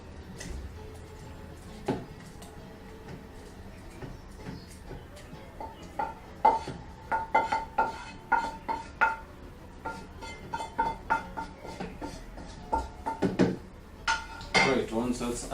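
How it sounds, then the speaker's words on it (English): A wooden spoon scoops a puree mixture into a jug, making a run of light clinks and knocks against the jug that is close and moderately quiet. A voice talks over it in places. "holding your wooden spoon right over the jug, proceed to scoop your mixture in"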